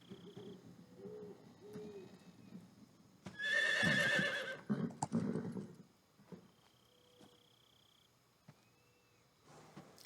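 Horse whinnies loudly in the Metal Gear Solid 3 video game, a sharp neigh rising mid-clip amid quiet game ambience, with a few soft hooting calls and faint background tones around it.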